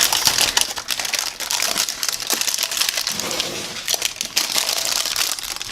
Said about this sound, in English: And it's loud because there's parchment paper down.